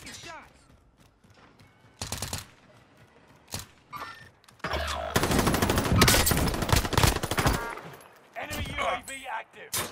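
Gunfire in Call of Duty: Modern Warfare, scattered single shots early on that build into sustained machine-gun bursts mid-clip, then tail off into a final flurry.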